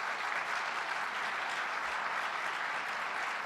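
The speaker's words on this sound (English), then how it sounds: "So give them a round of applause for what they have done once again" Audience applause for career employees of the U.S. Department of the Interior at a 2011 all-hands town hall, a steady wash of clapping from a large crowd, fairly faint and even throughout with no one speaking over it.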